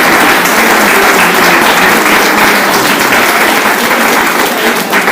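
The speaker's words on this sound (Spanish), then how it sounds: "os lo agradecemos con un fuerte aplauso" An audience at a parish round-table event in Spain claps loudly and continuously, dense steady applause filling the whole span without pause.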